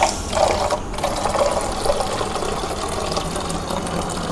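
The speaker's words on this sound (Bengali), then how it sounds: "একটা বোতলে জল ঢেলে নি।" Water poured into a bottle at home, a steady close gurgling stream that starts strongly and continues evenly for a few seconds with no talk.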